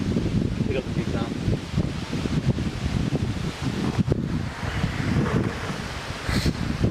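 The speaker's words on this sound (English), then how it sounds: "It's a bit windy, so sorry if you can't hear me." Outdoor wind buffets the microphone in continuous low rumbling gusts, loud and uneven throughout.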